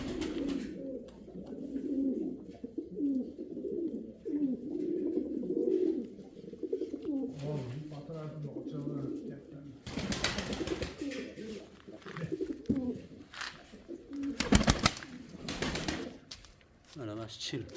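Uzbek pigeons cooing in a loft, repeated low throaty coos close by, continuous throughout, with a person talking over them at times and brief bursts of noise near the end.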